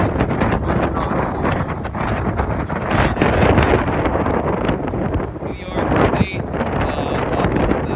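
Heavy wind buffets the microphone in constant rumbling gusts outside a sheriff's office while a person talks underneath the roar.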